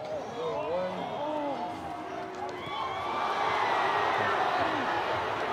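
Rugby stadium crowd reacting with a loud, sustained roar of booing to a red card at a Super Rugby Pacific match between Moana Pasifika and the Brumbies, swelling toward the end under a commentator's voice.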